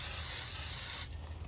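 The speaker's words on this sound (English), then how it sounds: "because when I spray the water," Water sprayed onto the coils of an air conditioner makes a steady, close, broadband hiss for about a second before cutting off, leaving a faint rustle behind.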